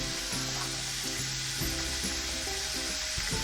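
About a teaspoon of garlic paste sizzles loudly in a frying pan, a constant close hiss with crackles and stirring scrapes, while light music plays underneath and no one talks.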